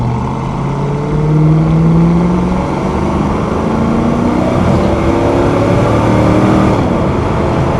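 A 2001 Pontiac WS6 with a 5.7 engine and automatic transmission accelerates on a test drive, its loud, steady engine drone rising in pitch through the run with road and wind noise, no talk.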